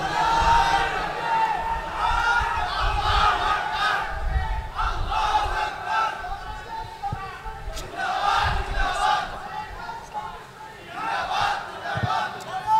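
A crowd at an outdoor Islamic religious gathering at Shahbag chants slogans in loud, rhythmic call-and-response waves to welcome an honoured guest, with a leading voice between the swells.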